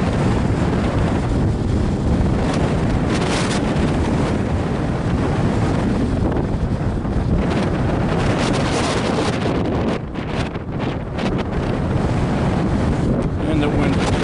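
Gusty wind sweeps over one of Virginia's highest mountain peaks, battering the microphone with a continuous loud roar that dips briefly partway through.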